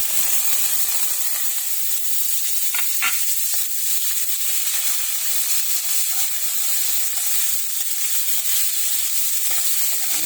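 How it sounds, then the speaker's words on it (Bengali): Peanuts fry in a hot pan with carrots being stirred in, a steady bright sizzle running throughout, punctuated by a few sharp scraping stirs near the start and end. "বাদাম ভাজা হয়ে গেছে তো, এখন আমি এটাতে গাজর দিয়ে দেবো।"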